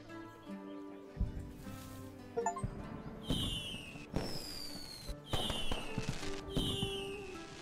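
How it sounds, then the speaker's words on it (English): Fireworks bursting in the video game Black Skylands: several sharp cracks and rising whistling streaks repeat every second or so over a steady game background, fairly loud and close. "you brought fireworks!"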